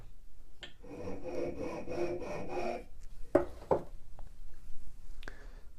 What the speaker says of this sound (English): I've just shaved off the end here with the file to get it about the same width as this.